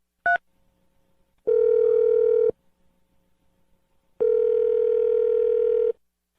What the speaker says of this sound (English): We're going to dial the phone number